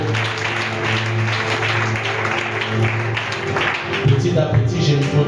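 A church congregation breaks into sustained applause and clapping, moderately loud and continuous, with music playing underneath and the crowd swelling slightly toward the end.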